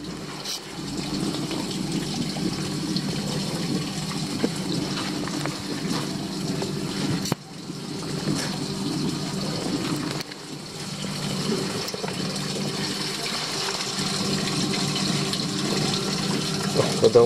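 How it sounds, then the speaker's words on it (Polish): Water pours and gushes continuously into an old well in Stary Sącz, Poland, a steady rushing flow with a brief interruption midway, heard up close. "woda napływa"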